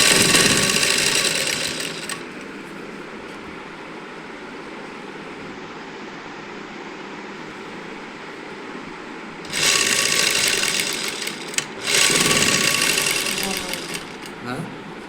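Sewing machine stitching a housecoat, running in loud bursts at the start and again near the end, with a quieter stretch of low hum between.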